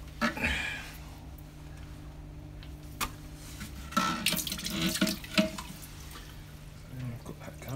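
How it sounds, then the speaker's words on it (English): Water drains out of an aquarium fitted with an under-sand-bed filter and a deep sand bed, producing uneven gurgles and splashes that swell and fade, with a sharp drip-like knock partway through. "So, let's drain the water."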